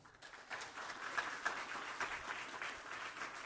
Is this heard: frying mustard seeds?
no